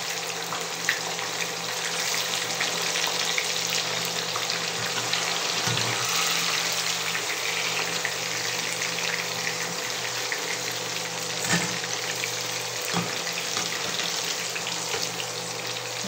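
Tofu fries in a wok with a constant, dense sizzle that stays loud throughout, with a few soft thumps from stirring and no talking.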